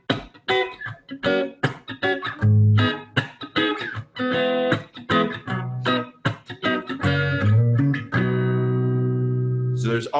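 Guitar chords strummed in a steady, rhythmic pattern during a beginner guitar lesson, with sharp repeated strokes at close range that end on one long, ringing chord left to sustain.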